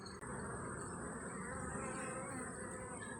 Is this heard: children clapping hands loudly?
no